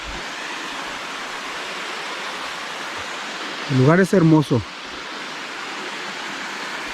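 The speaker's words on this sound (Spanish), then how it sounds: "Ahí está una cascada de 3 metros aproximadamente." Small waterfall about three metres high, running somewhat low, at a cascade near San Nicolás de los Montes, Tamasopo, in the Huasteca Potosina; a steady broadband rush of falling water throughout, briefly overlaid by a person speaking.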